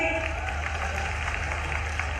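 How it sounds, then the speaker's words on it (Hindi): Applause from an audience at a tribal student encouragement and honour ceremony in Khandwa, a dense, steady wash of clapping lasting about two seconds at moderate distance. "एक बार जोरदार ताली मोहन जी की भाई।"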